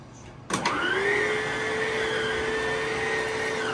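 An Aerus Lux Legacy vacuum cleaner switches on with a sharp click, its motor spinning up into a steady loud whine and hum that continues without a break.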